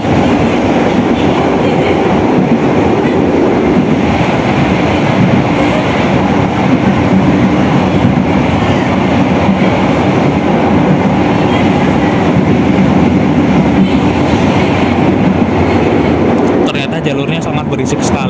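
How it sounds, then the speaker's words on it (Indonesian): A commuter train on a Jakarta rail line just past Kemayoran station makes a loud, continuous rumble and rattle of wheels on the track, heard close from onboard for the whole stretch. "Jalurnya sangat berisik sekali selepas stasiun Kemayoran ini."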